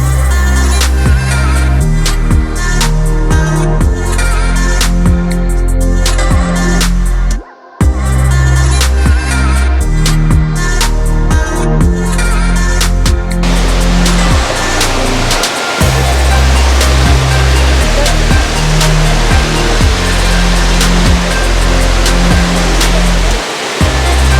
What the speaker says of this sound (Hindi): बहुत ब्यूटीफुल यहाँ पे वाटरफॉल है, बहुत ज़्यादा ब्यूटीफुल।